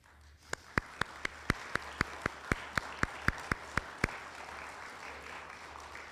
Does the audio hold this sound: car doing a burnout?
no